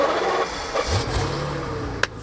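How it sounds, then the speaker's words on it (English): BMW Alpina V12 engine starting up, a brief starter whir that catches into a smooth steady idle, heard close and alone, ending with a sharp click. "Let's start the magnificent V12."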